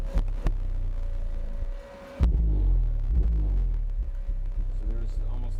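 A car audio subwoofer driven by a Taramps HD3000 amplifier plays a song, producing heavy, throbbing deep bass that cuts out briefly, then slams back in loud and sustained, with a steady hum underneath.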